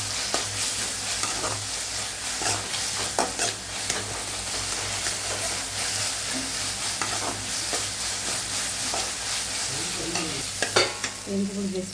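Ginger garlic paste sautéing in a pan for masala idli, with a continuous close sizzle broken by frequent scraping stirs and light clinks throughout, no talking.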